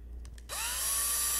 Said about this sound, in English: I drill this with the 1/16 first, just to create a guide for the bigger drill bit.